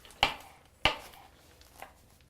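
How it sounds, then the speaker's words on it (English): Two sharp knife strikes on a cutting board, about half a second apart, come from a rough chop of fresh cilantro in a kitchen, followed by a fainter third tap in a quiet room. "One of the last things I'm chopping up here is some cilantro."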